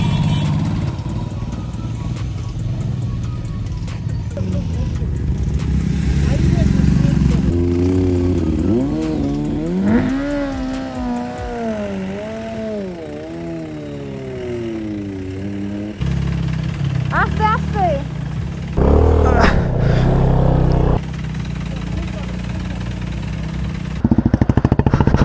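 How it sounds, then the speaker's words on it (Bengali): A motorcycle climbs an off-road landslide section in the hills in first gear, its engine droning and rising in pitch under full throttle across the clip, loud and close, with a voice talking over it throughout. "ফার্স্ট গিয়ারে করে একটানে ফুল অ্যাক্সিলারেটরে এগো"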